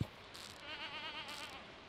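A goat bleating in the Stardew Valley farming game, one short wavering bleat, fairly faint and alone.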